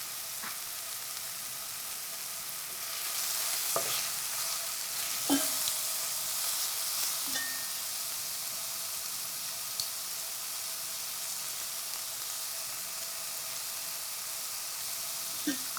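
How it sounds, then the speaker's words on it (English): Floured chicken seasoned with salt, pepper and granulated garlic sizzles steadily in olive oil, a continuous close frying hiss with a few faint clinks from the pan, no talk. "we got a little sizzle action"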